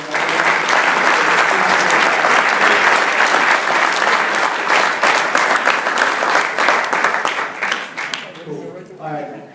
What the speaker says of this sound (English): So I think that she deserves a round of applause as she already got one.